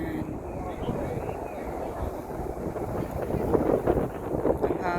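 Wind buffets the microphone outdoors near Tung Chung on Lantau Island, Hong Kong, a steady low rumbling roar that swells toward the end, with faint talk underneath.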